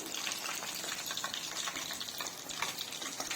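Chicken leg pieces deep frying in hot oil, a dense, steady bubbling crackle at close range, even and continuous with no voices.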